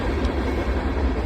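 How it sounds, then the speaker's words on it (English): A train rolls past nearby on wooded property, a loud, continuous low rumble and rush with no breaks and no voices over it. "Hope you can hear me over the train."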